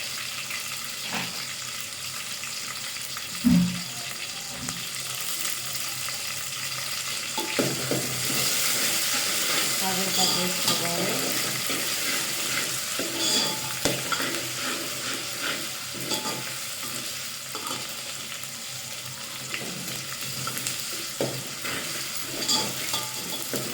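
Fresh curry leaves fry in hot oil with a continuous crackling sizzle, broken by occasional stirring knocks and scrapes nearby.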